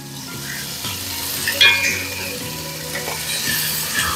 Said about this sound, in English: sear your meat with this wonderful fat from the pancetta